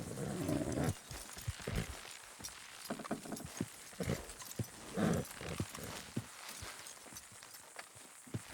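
Horses in the video game Red Dead Redemption 2 clip-clop in irregular bursts of hoofbeats over a low ambient bed, moderately close with no talk.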